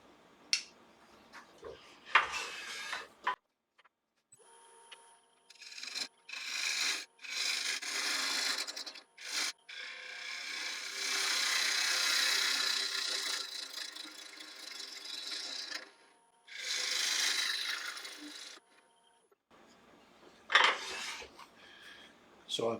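A wooden blank spun on a wood lathe as a tool cuts and dishes it, giving long rasping, scraping passes broken by pauses and a few sharper knocks, close and fairly quiet, no talk.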